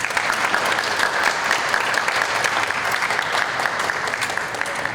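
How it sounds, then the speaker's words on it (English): An audience applauds two governing board candidates at the end of a school district candidate forum, a steady, dense wash of many hands clapping in an indoor room that holds at an even level throughout. "One more time, an applause for our two candidates."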